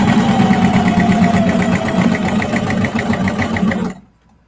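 A sewing machine bastes binding onto a clear vinyl bag, a loud, close, steady rhythmic whirr of the needle running for about four seconds before stopping abruptly.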